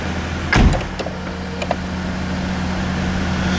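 A single solid thump of a 2005 Jaguar XJ8 L door shutting near the start, followed by a couple of faint clicks over a steady low idle hum.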